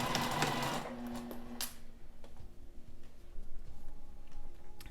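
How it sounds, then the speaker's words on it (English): A sewing machine runs steadily up close as it stitches fabric to attach a gathered side panel tier at a 3/8 inch seam, with a rapid ticking rhythm and no talk. "Now I'm ready to take it over to the sewing machine and attach it at 3/8 inch."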